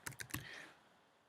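Three quick, quiet keystrokes on a computer keyboard tap out in a short burst, then fade into near silence.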